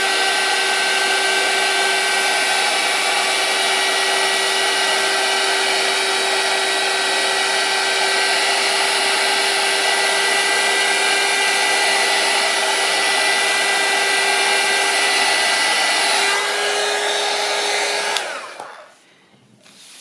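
A heat tool blows hot air steadily over an inked thermal till roll, a loud continuous whine and rush lasting nearly twenty seconds, with a slight pitch shift late on before it switches off and winds down.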